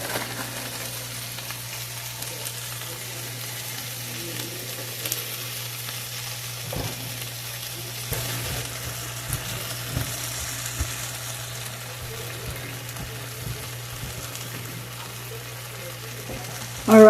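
Beef burgers for BBQ bacon cheeseburgers fry in a pan with cheese melting on top, a faint, steady sizzle with a few soft thumps and a louder knock at the very end.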